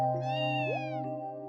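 Cat meowing in the Trails From Zero video game: a single clear, drawn-out meow that rises and falls, heard close over a steady background music tone.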